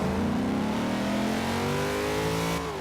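A car in Forza Horizon 2 revving hard in first gear, a loud close engine note climbing steadily in pitch as it accelerates, then easing off at the end, no speech.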